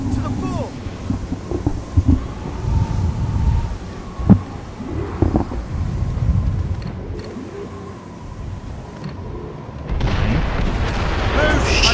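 Mortars fire on ships during a naval battle in the Assassin's Creed Rogue video game, with repeated low booms, one sharp blast standing out, over a constant rumble of sea and cannon noise, with faint voices in the mix.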